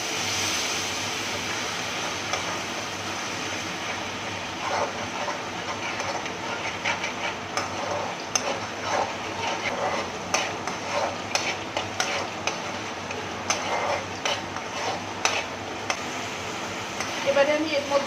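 Cooked masala being stirred in a pan after a splash of water is added, a continuous close scraping and light sizzle with irregular clinks of the spoon against the pot, voices faint underneath.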